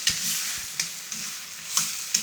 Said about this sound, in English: I'm just almost stir frying them just to get them coated in the masala